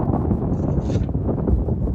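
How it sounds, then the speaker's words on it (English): Wind buffets the microphone at the Jockey's Ridge State Park sand dunes, a steady low rumbling roar that is continuous and fairly loud throughout. "It was also a bit windy there."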